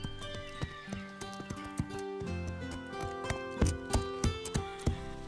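Hooves clip-clop in an uneven walking rhythm, close and fairly loud, with steady tonal sounds humming in the background.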